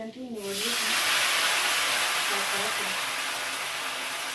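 Garlic and cumin tempering sizzles in hot oil, a loud, dense, continuous hiss that bursts in after a brief voice and holds steady to the end.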